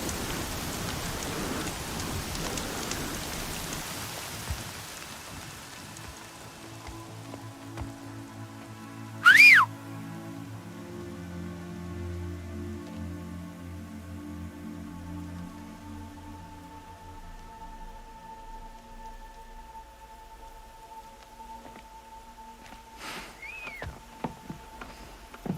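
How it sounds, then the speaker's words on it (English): Steady rain pours down in the Horizon Zero Dawn video game, a constant hiss of drops on surfaces. Low ambient tones sit underneath, and a brief whistling cue rises midway and again near the end. "Rain's too loud to hear much."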